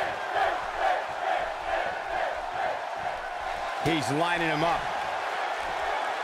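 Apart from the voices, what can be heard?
crowd cheering in WWE 2K18 video game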